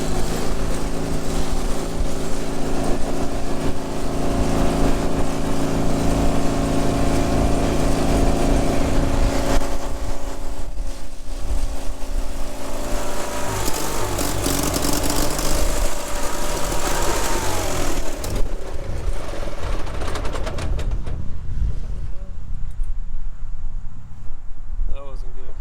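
A Gravely 816 rear-engine garden tractor with an Onan twin engine runs at full throttle for a long, steady stretch, its loud, rough drone continuous and close, easing off in the final few seconds.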